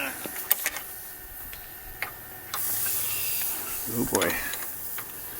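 A heated century-old nut and bolt hiss and sizzle steadily at moderate volume, with scattered ticks and clicks and a brief spoken exclamation near the end.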